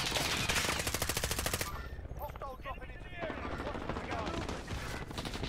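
Rapid automatic gunfire in the Warzone video game, loud and dense for the first seconds, then scattered shots and game effects continuing under people talking.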